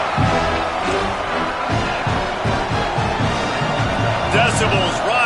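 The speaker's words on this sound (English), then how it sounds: "Decibels rising as the crowd gets behind this defense on third down." Loud stadium crowd noise swells and roars throughout an NCAA 26 college football video game broadcast on third down, a continuous wash of cheering with a commentator talking over it.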